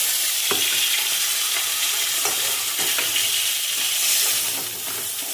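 Parshe fish frying in hot oil in a home kitchen, a steady close crackling sizzle with occasional sharper spits and stirring scrapes, continuing unbroken with no voices.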